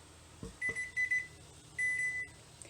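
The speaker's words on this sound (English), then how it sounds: "I've turned that timer off" A kitchen timer sounds a few short electronic beeps followed by a longer beep, quiet and steady, with a couple of soft knocks at the start.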